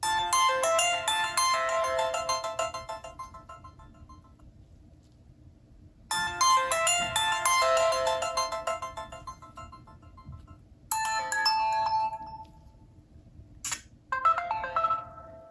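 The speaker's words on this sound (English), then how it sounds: "Okay, it's Windows Phone ringtones." Windows Phone ringtones played at maximum volume through the mono speaker of an unreleased Nokia Lumia prototype, several separate electronic tunes in bursts with short silent gaps between them, thin and bright.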